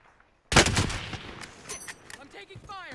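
Video game gunfire from Call of Duty Warzone: a sudden loud burst of rapid shots, then scattered cracks and impacts under game ambience, with a voice speaking briefly.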